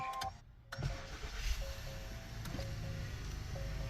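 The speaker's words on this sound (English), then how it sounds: "So now I'm going to start the engine." A push-button start on an Acura Honda car cranks the engine briefly, which catches and settles into a steady, fairly high warm-up idle. Faint chime tones sound over the running engine and no one talks.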